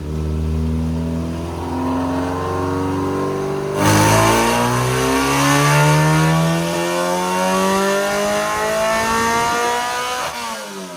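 An Integra's JDM K24a engine with a short ram intake revs hard on a dyno, a loud, sustained engine roar whose pitch climbs steadily through the run before easing off at the end.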